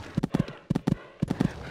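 Horse hooves galloping over a cross-country course in the Equestriad 2001 game, with triple-beat hoof patterns repeating in clear rhythmic groups, moderately loud and close.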